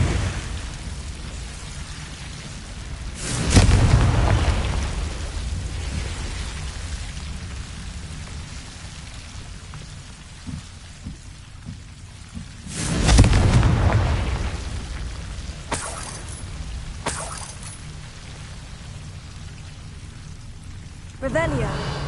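A Confringo blasting spell goes off in Hogwarts Legacy as two loud, rumbling booms a few seconds apart, with a hissing, crackling tail. Lighter pops follow, and speech runs through the clip.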